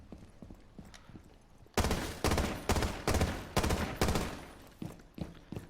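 Rapid bursts of gunshots fired at a small cabinet in Rainbow Six Siege, Bartlett University map, loud sharp cracks in quick uneven succession after a quiet stretch, alone without talk.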